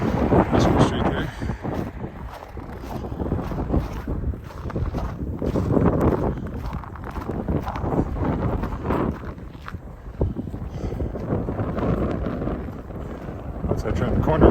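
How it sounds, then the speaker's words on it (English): Gusty wind sweeps loose snow along Wascana Street in Regina on a December pre-dawn walk, a steady loud rush buffeting the microphone with rumbling low gusts throughout, no talking. "Snow being chased by the wind on the Wascana Street there."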